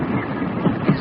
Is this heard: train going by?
yes